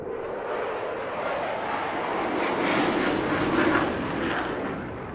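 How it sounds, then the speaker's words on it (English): A Eurofighter Typhoon jet flying at the Eastbourne International Airshow, a loud, broad jet roar that builds and swells as it passes and then eases slightly, with nothing else prominent. "you can almost feel the carefree handling that pilots of the Typhoons often refer to with this machine"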